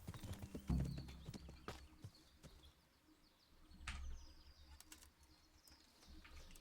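Horse riding in the Kingdom Come Deliverance game, hooves clip-clopping in an uneven rhythm, with a heavy thump near the start and fluttering, wing-like bursts and faint bird sounds over the quiet outdoor ambience.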